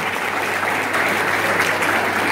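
Audience at a school ball applauds steadily after a dance showcase, a dense, even wash of clapping holding at the same level throughout without pause.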